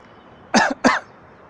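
Two quick, sharp coughs close to the microphone, one right after the other, then quiet.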